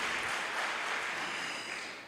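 Steady clapping from a church congregation, a dense, even patter of many hands that holds for a couple of seconds, then slowly tapers off.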